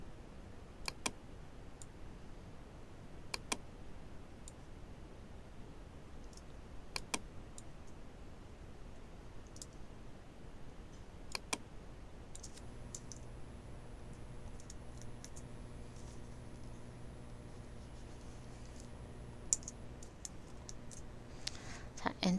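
Sparse mouse clicks and keyboard presses sound while someone works in Photoshop, set against a quiet room, with a low humming tone entering partway through.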